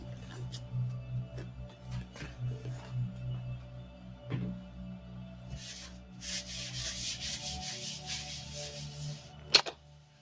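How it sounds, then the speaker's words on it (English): Steady rubbing of sandpaper on wood for a small greenhouse propagation stand built indoors, a soft continuous scratching that grows brighter and hissier midway, with a sharp knock near the end. "Of course, I'm sanding. It's gonna make dust."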